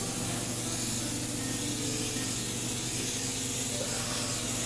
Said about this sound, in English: it sprays an oxygenated serum